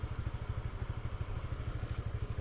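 A Honda Monkey motorcycle engine idles quietly nearby, a soft, steady low putter with an even rhythm and no other sounds over it.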